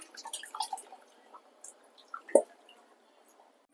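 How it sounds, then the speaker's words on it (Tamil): Tamarind extract is poured into a boiling kuzhambu, heard as scattered drips and splashes with a sharper splash midway and another at the end, fairly close and quiet. "நான் புளி கரைச்சல் சேர்த்துக்கிறேன்"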